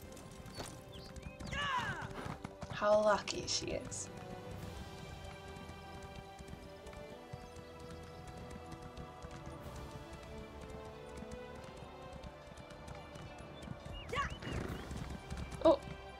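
A horse in the Elder Scrolls Online video game gives a couple of whinnies, with faint hoofbeats under ongoing background music and occasional talk.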